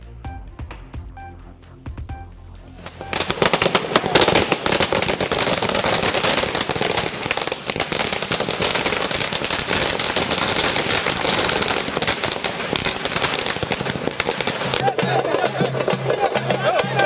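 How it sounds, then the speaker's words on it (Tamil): Firecrackers bursting as party workers celebrate a by-election victory at Anna Arivalayam in Chennai: after a quiet start with a voice, a dense, continuous string of loud crackling pops runs on for over ten seconds, with talk faintly underneath. "சென்னை அண்ணா அறிவாலயத்தில் பட்டாசுகளை வெடித்தும் நடனமாடியும் உற்சாகம்."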